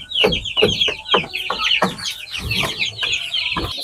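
Jersey Giant chickens on a farm cluck in a steady series of close, fairly loud calls, with several birds overlapping throughout.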